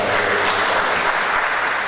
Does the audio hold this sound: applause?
yes